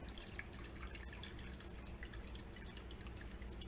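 Water poured into a large pot holding chicken for broth, a faint, steady trickling and dripping stream heard close up without any voices over it.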